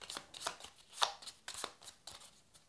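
Ship cards for the Black Fleet board game are shuffled by hand, a quiet series of irregular papery riffles and slaps close by, with no talking.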